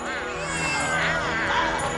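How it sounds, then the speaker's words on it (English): Cats in a 1998 animated cartoon meow and yowl in drawn-out, wavering cries, loud and continuous, with several voices overlapping for the full two seconds. "Oh, cats. Why did it have to be cats?"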